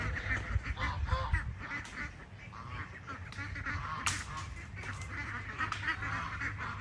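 Flock of more than fifty three-and-a-half-month-old Indian Runner ducklings kept for sale, quacking and chattering continuously at close range, with one sharper call standing out partway through.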